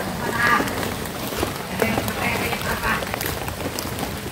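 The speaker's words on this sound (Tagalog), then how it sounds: "Basa ng ulan." Rain falling steadily outdoors, a dense continuous patter on surfaces with a few louder drops, fairly close and constant throughout.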